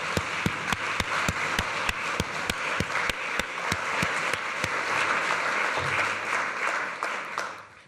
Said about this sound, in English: let's just give Gary Foley a round of applause